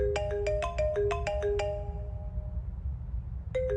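A phone ringtone plays a quick run of bright electronic chime notes, pauses briefly, then begins again, ringing out clearly over a low background rumble.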